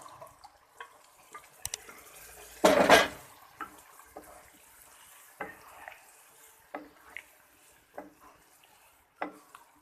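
Boiled chickpeas with some of their cooking water are poured into masala in a pot, giving a brief loud splash and sizzle, followed by soft scattered stirring clinks and drips close by, with no talking.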